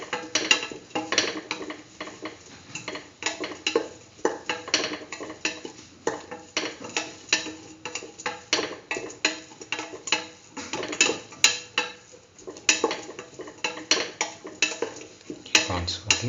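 A spoon stirs a vegetarian cumin tomato stew in a pot, scraping and knocking against the sides in a steady, repeated rhythm, close up and with no talking.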